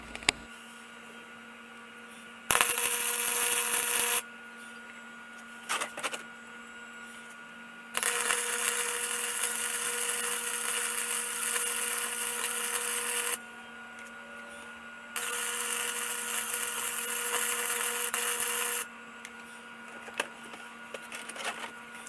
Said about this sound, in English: So I guess let me just go ahead and get it welded up